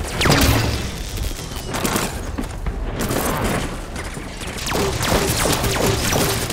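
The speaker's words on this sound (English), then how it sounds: "We're shooting at the soldiers." Dense, loud gunfire from a soldier firefight in the Halo 5: Guardians video game, with rapid overlapping shots, crashes and booms filling the whole stretch with little pause.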